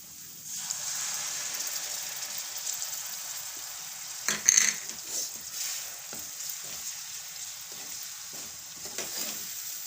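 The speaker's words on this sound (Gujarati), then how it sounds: "આ ટમેટાનું ગ્રેવી છે એ નાખી દેવું આમાં" Tomato gravy hits hot oil in a pan with a steady, bright sizzle that runs throughout, broken by scraping stirs of a spoon against the pot, fairly close and without talk.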